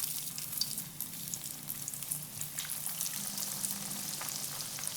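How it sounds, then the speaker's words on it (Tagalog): Eggplant frying over medium heat in hot oil, a dense, continuous crackling sizzle with steady bubbling and a few brighter pops; no voices. "Pirituhin natin yung talong into medium heat."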